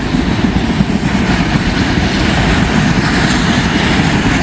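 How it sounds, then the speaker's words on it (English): An empty rail train rolls past in Walton and Richwood, Kentucky, a loud, close, continuous rumble of cars with steady wheel noise throughout. "Empty rail train. Laid his rail somewhere."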